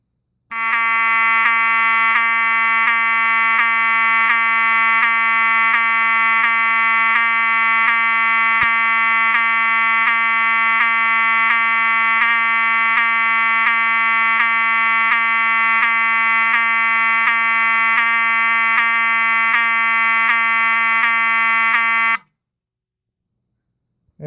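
A Wheelock 7002T-24 horn strobe marked HALON blares a loud, steady electronic horn tone with a fast pulsing buzz, running for about 22 seconds at close range before cutting off to silence.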